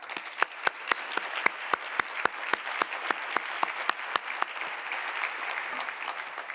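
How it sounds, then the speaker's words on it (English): An audience at a health policy event gives a round of applause for the program team, with clapping of moderate density; several sharp, close handclaps stand out in a steady rhythm above the softer clapping of the room. "So I'd like to just take a moment to give them a round of applause."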